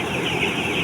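Broiler chickens in a closed-house poultry coop make a dense, continuous chorus of clucking from many birds, loud and close.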